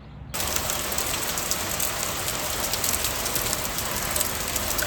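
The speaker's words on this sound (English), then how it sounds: "Nice quiet rainy day." Steady rain falls on a quiet day in a Swiss mountain village near Zermatt, a dense, even hiss with scattered patters that starts abruptly and continues at a constant level with no voices.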